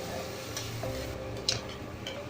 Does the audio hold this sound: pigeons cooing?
no